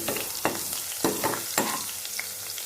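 Cumin, ginger garlic paste and curry leaves frying in hot oil, a constant crackling sizzle with four or five sharp spatula strokes against the pan, up close and moderately loud.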